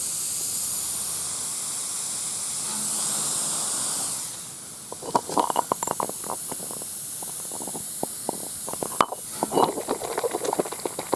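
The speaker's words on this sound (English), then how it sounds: "this is leaking air" Air escaping from a leaking Peterbilt truck tire makes a steady hiss, which gives way to irregular bubbling and crackling pops as soapy water foams over the leak, heard up close with no talking.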